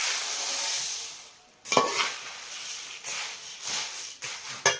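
Chili powder stirred by spoon into fried puffed rice in hot oil in a pan on a switched-off stove, making near scraping and rustling strokes in uneven bursts over a faint fading sizzle.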